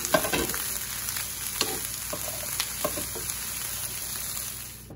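Carrots sizzle steadily in a frying pan over medium heat, a close crackling fry with occasional stirring clicks and pops and no talking.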